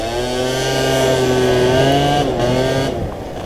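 An MBK Spirit moped scooter revs up hard, its small two-stroke engine climbing in pitch with a loud buzzing whine close by, then easing off near the end.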